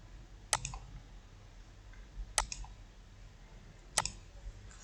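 Three sharp, quiet computer mouse clicks spaced about two seconds apart, each a crisp single tick over a faint room hiss, made while pressing a get started button on an account login screen.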